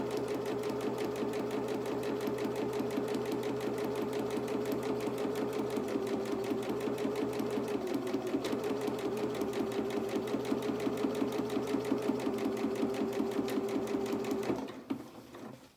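A sewing machine runs continuously while stitching a long hem on a small doll's dress, a steady, close, rapid whir that stops abruptly near the end.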